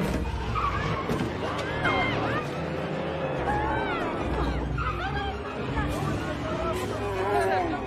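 A classic car races through a film stunt chase, its tires squealing and skidding in repeated sweeping screeches over a loud engine, with excited voices talking throughout.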